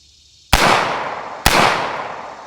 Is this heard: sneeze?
no